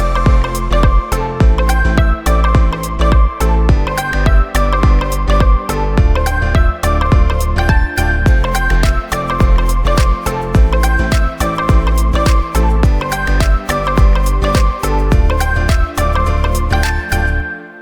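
Loud electronic drop built in GarageBand on iPad or iPhone, with a steady punchy kick, bright tonal synth chords and crisp percussion hits driving along continuously with no talking.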